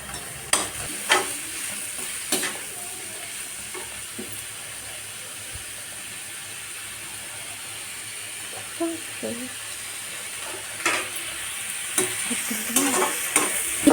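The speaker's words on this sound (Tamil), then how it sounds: "லேசாக நம்ம வதக்கிட்டு மஷ்ரூமையும் கேப்சிகமையும் போட்டுக்கலாம்" Mushrooms and capsicum sizzle and hiss in a hot pan for noodles, with scattered scrapes and clinks of a spatula stirring, steady and moderately close throughout.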